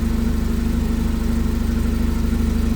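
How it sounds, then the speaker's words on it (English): A cold 2020 Clark S30L forklift engine with 5500 hours runs at a steady idle, a loud, even, close mechanical hum with a regular low pulse and no talk over it. "Like I said, this is a cold engine, but you can hear that"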